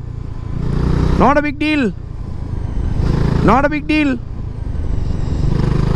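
A 400cc sports tourer motorcycle cruising in 4th gear at about 40 km/h in city traffic, its engine a steady low rumble with wind noise beneath a rider talking.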